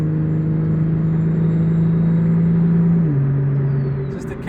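Car fitted with a T51R mod pulling hard uphill after a downshift, a steady loud engine drone that holds, then steps down in pitch as the gear changes, close and continuous with no talking.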